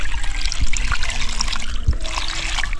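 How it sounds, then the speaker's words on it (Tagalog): Water poured into a cooking pot during home food preparation, a steady splashing trickle running throughout with a couple of soft knocks, close and fairly loud, without talk. "Tapos lagyan natin ng tubig."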